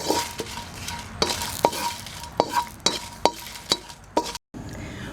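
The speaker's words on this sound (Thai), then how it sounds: "นำมาคั่วให้หอมค่ะ" Ingredients are dry-roasted in a pan for Thai tom kha soup with banana blossom: a spoon or spatula scrapes and clinks repeatedly against the pan in a steady stirring rhythm, over a faint sizzle.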